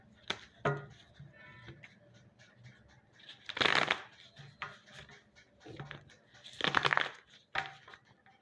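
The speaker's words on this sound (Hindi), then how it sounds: "लास्ट शफल, एक और शफल।" A deck of tarot cards is shuffled close up in quiet bursts, soft riffling patters and slaps repeating every few seconds, with two louder riffle shuffles standing out.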